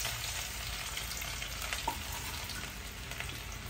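Cumin, chili, ginger and garlic sizzling in hot oil in a pan for pav bhaji, a steady close crackling fry with faint stirring, no voices.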